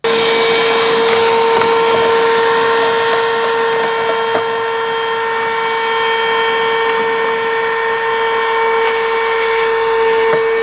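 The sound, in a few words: vacuum cleaner with crevice tool cleaning cabin filter housing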